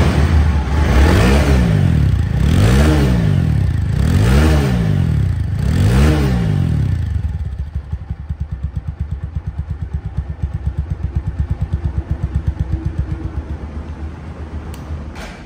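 A TVS Apache RTR 4V motorcycle engine revs hard four times in steady rising-and-falling surges, then settles into a clattering idle with a rapid, even pulse, close and loud.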